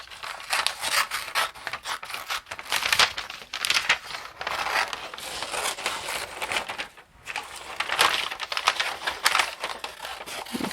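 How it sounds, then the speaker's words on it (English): Repeated crisp snipping and paper rustling close by as scissors cut out paper doll-craft pieces, continuous with short pauses. "you're going to take your scissors and you're going to cut that out"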